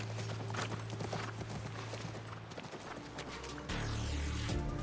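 Horse hooves clop steadily in The Last of Us Part I, a continuous rhythmic patter near a ranch, set against a low droning game soundscape that swells louder toward the end.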